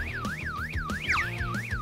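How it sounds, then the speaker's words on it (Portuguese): Cartoon-style alarm wailing in a continuous rising-and-falling tone, cycling about every quarter second, loud and alone, with a brief bright chime layered in midway. "um alarme?"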